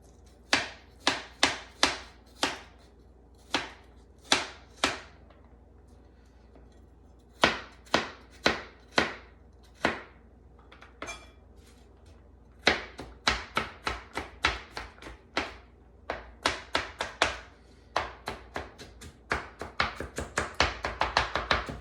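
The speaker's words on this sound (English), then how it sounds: "Let's just mince it up." A knife chops rapidly on a cutting board while a peeled garlic clove is minced. Crisp taps come in quick irregular bursts, speeding into a fast flurry near the end, close and clear with no talking.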